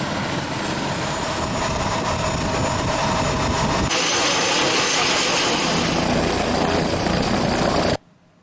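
A helicopter delivering food, medicine and supplies to flood-stricken areas in Luwu throbs loudly and steadily close by, its rotor and engine roar filling the whole span before stopping suddenly at the end.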